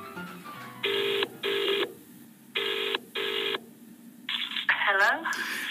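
Telephone keypad tones beep in four evenly spaced bursts, followed by a warbling ring as a call goes out to relatives in Brighton; the sequence is close, clear and uninterrupted by talk.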